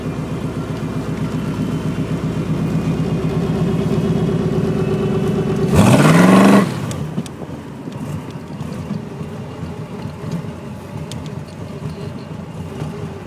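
A 1922 hot rod with a gear drive line cruising down the road, its steady engine and drivetrain drone heard close up, with a brief loud whine and buffeting burst midway before the steady running resumes.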